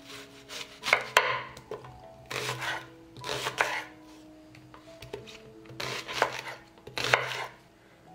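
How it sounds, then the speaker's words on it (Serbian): A knife chops an onion into large pieces on a board, in several separate bursts of a few quick, close cuts each, with quiet pauses between them. "1 crni luk iseći ću na krupnije komade."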